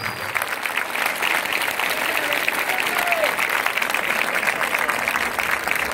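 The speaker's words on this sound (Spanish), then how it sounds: "Aplauso para nuestra Argentina, que es tan linda, tan llena de buena gente." A crowd at a folk performance in Argentina applauds loudly and continuously, a dense, even roar of clapping with faint voices mixed in.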